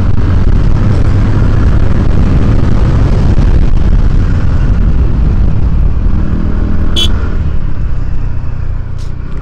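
A TVS Ntorq 125 scooter accelerates at full throttle, heard as a loud, constant roar of engine and wind rush from the rider's position with no break and no speech.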